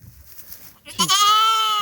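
A lamb bleats once, loud and close, in a single drawn-out wavering cry while a ewe stands on its tail, after a brief stretch of quiet rustling.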